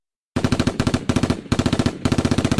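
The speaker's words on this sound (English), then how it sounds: "That's gunfire." Rapid automatic gunfire, loud and close: several tight bursts of many shots each, separated by very short gaps, beginning after a brief silence and running to the end, with no voices.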